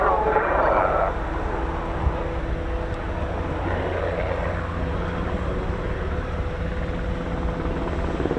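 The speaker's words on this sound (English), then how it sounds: "This is the German Army's NH90, and it is excellent as usual." A German Army NH90 helicopter flies at an air show, its steady rotor and turbine drone continuous and fairly loud, with a commentator talking over it.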